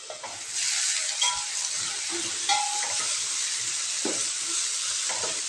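Beans and carrot poriyal with turmeric and a little water simmers in a pan, giving a steady close sizzle and bubbling hiss with intermittent scraping stirs, no voices.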